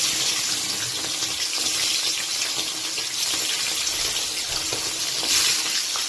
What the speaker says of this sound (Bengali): তেল গরম হয়ে গেছে এবার আস্তে আস্তে মাছগুলো ছেড়ে দেবো